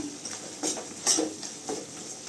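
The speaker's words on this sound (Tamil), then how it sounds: "நல்லா கிண்டி விட்டுக்கலாங்க." Mutton chukka being stirred in a pan, with a few spaced scraping clinks of a spoon against metal over a low background, fairly close and moderately quiet.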